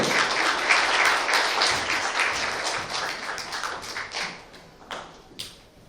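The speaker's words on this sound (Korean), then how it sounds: "여러분 박수 부탁드립니다. 박수 보내주시고요." Audience applause at a science forum at the Gwangju National Science Museum, a moderately loud patter that thins into scattered individual claps toward the end.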